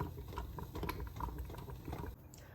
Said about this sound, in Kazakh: Мына жерде суға крышкаларды салып қайнатамын қазір 5 минуттай.